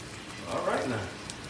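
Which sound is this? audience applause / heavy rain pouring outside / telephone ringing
heavy rain pouring outside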